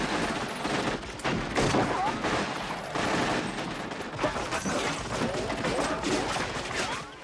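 Shotguns and guns are fired in a movie shootout, with dense, continuous volleys of loud gunfire and blasts filling the scene.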